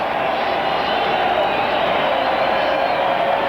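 Stadium crowd at a 1991 Mets home game against the Montreal Expos in the bottom of the ninth, a steady, dense roar of cheering and chatter that stays loud and even throughout.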